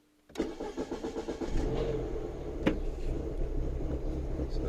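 A 2007 Mini Cooper S R56 engine with a low fuel pressure and rough idle problem, close up: it cranks and starts after a moment of silence, then settles into a steady, slightly uneven idle.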